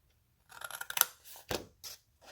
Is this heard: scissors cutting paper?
yes